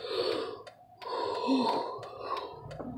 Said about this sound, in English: I hate yawning.